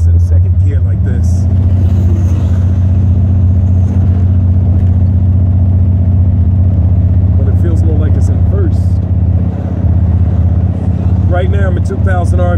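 A 1987 Stage-1 Buick Regal-T with a 455 engine pulls in second gear at about 2,000 RPM, making a loud, steady low engine drone heard from inside the car while someone talks over it.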